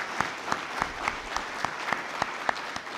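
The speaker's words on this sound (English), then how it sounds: "Can we have a huge round of applause?" Steady audience applause at a formal event honouring a chief guest, a dense even wash of many hands clapping with a few sharper individual claps standing out, moderately loud and sustained.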